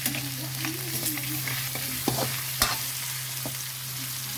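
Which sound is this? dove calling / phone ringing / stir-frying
stir-frying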